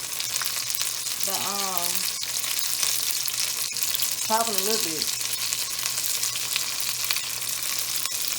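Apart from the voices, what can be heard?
pickles deep frying in oil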